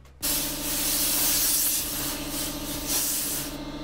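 A spray gun hisses steadily while paint goes onto a custom Ford Bronco, starting abruptly and holding a loud, close, continuous spray with slight pulsing.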